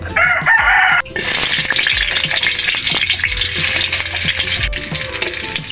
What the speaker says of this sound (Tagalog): Magagisa tayo ng upo para tayo ay hindi makalimot sa po at upo